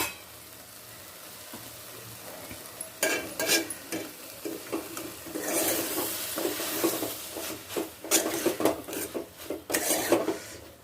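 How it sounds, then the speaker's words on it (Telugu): A spoon stirs tomato meal maker curry in a pot, scraping and clinking in irregular bursts over a faint background sizzle; the sound starts quiet and grows busier after a few seconds, with no talk. "ఒకసారి మనం కలిపేసుకుందాం."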